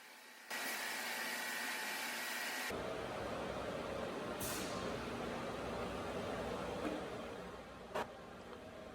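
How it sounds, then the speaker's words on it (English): A drill-driven paddle mixer churns epoxy for cove mortar with a loud, steady whirring hum that kicks in abruptly and runs without pause, changing tone partway through. "a regular mixing paddle to mix the epoxy"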